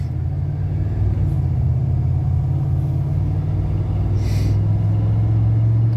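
A 1985 Chevrolet Monte Carlo cruises along with a steady low engine and road rumble from inside the cabin, constant and smooth, with a few faint brief clicks near the end.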